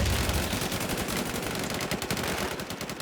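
Rapid automatic gunfire from a gun in the shooter game Warz, a loud continuous burst of tightly spaced shots filling the whole stretch, with no talking.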